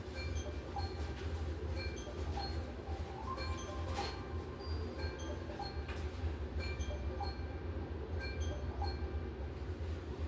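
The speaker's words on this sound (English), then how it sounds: "that's my alarm. Hang on." A repeating electronic beeping alarm rings over steady background noise, short tonal beeps recurring throughout at a moderate level.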